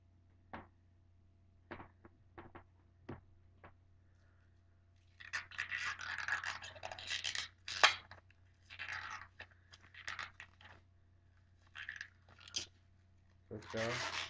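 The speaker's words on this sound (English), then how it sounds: "I'm going to peel off the film now." Protective film being peeled off a new DJ party speaker, heard as bursts of crackly, rasping tearing and rubbing close by, with sparse taps first and then a long run of peeling strokes.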